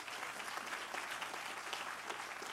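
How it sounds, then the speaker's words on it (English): Dense, steady applause from an audience at a groundbreaking ceremony, heard from a distance at moderate level, continuous clapping without pauses or voices. "give them a round of applause"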